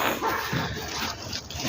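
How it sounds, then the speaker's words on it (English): Dogs bark and yip at a backyard fence, loud and close, in a continuous noisy jumble. "Bloody dogs at the fence."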